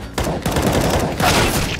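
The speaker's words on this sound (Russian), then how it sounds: "Ты видел, как я стреляю?" Rapid bursts of gunfire from a CS:GO match, loud and close, with repeated shots packed densely across the whole stretch and no voices over them.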